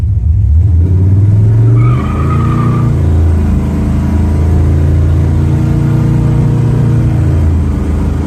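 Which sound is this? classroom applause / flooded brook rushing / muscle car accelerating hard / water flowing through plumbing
muscle car accelerating hard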